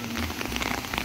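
Hail and rain falling on a surface in Shimla, a dense, close patter of many small impacts at a steady level with no voices.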